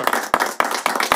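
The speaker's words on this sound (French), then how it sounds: "Applaudissez pour vous." Four sharp, evenly spaced hand claps ring out in quick succession from an audience, close and fairly loud with nothing else underneath.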